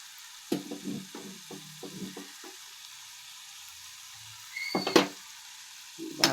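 Chicken liver frying in a pan with masala and garam masala powder, a faint steady sizzle broken by a run of close scraping stirs early on and louder clatters near the end.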